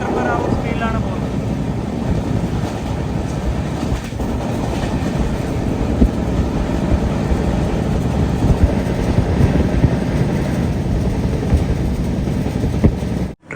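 Inside a sleeper-class coach of the Samata Express running at about 125 km/h through hill country into Odisha, a loud, continuous rumble with steady wheel clatter and rushing air fills the whole stretch, cutting off abruptly at the end.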